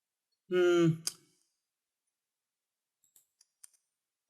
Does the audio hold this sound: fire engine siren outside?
no